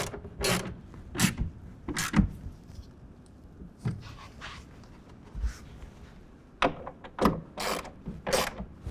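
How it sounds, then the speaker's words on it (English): A hand ratchet tightens bolts on a truck's hard folding tonneau cover rail, with several short bursts of clicking separated by quiet pauses and faint metal handling noises, close by, with no talking. "we're gonna go ahead and tighten everything down to 10 foot-pounds. Again, using the 1/2 inch wrench or ratchet."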